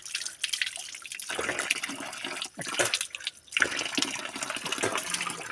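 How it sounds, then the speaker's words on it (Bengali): Water falls from rocks on a hillside, a close, uneven splashing and trickling with dips and surges in loudness, no talking. "দেখেন কীভাবে জল পড়ছে, পাথরের জল, খুব সুন্দর, খুব দারুণ।"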